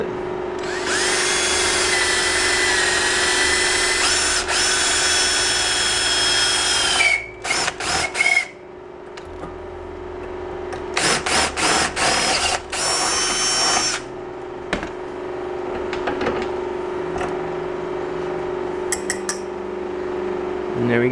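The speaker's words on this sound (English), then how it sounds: "And then you can just drill it." A power drill whines loudly and steadily, pausing briefly a few times before starting up again, with a low background hum throughout.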